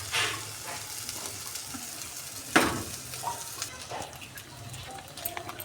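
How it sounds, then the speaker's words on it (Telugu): A spoon scrapes and stirs boiled pasta mixed with garam masala and sauces in a pan. It makes a few soft scraping strokes over a steady low sizzle, with one sharper clack midway. "ఇప్పుడు బాగా మిక్స్ చేసుకుందాము"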